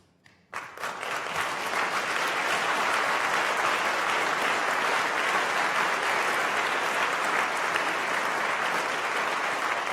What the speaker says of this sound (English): That applause is for us.